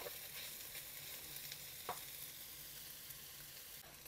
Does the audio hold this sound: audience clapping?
no